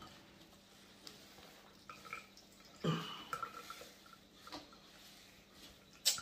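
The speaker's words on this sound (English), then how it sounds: "the water start coming out." Water dripping and trickling from cooked cauliflower as it is twisted and squeezed in a cloth, faint and close, with a few soft, irregular drips and splashes in a quiet room.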